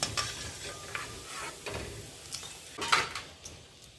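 Sago sandge fry in hot oil, a steady crackling sizzle with scraping and stirring strokes and a few louder bursts spaced through the few seconds, no talking.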